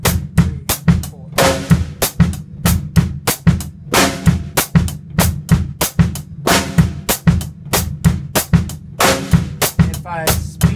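Drum kit playing a Fanga Alafia groove with the foot keeping a clave rhythm: sharp, loud, evenly spaced hits repeating in a steady cycle, close and unaccompanied.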